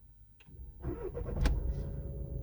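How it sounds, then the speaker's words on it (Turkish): A VW Golf 7.5 Highline with keyless start fires up after its push button is held: a brief starter crank, then the engine catches and settles into a quiet, close idle. "Bu şekilde aracımız çalışır."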